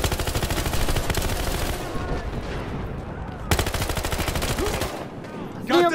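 Rapid automatic gunfire in the video game Battlefield Hardline, loud dense bursts of shots that pause briefly and then resume.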